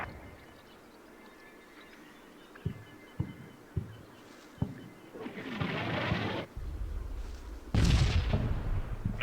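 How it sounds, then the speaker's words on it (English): 105 mm artillery shells landing in the Combat Mission wartime game, with a few distant dull thuds followed by two louder, nearer rumbling impacts. "our spotting rounds are getting closer."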